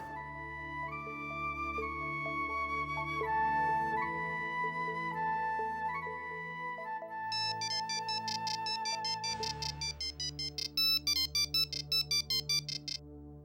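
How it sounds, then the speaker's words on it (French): A melodic telephone ringtone plays loud and alone for over thirteen seconds, a layered tune of sustained tones that shifts into quick, repeated bright chiming notes near the end, heard in an indoor domestic scene from a French-dubbed TV drama. "Allô? Oui, monsieur Sangram, je vous écoute"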